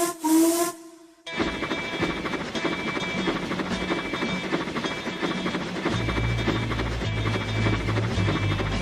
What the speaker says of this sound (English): She heard a familiar whistle.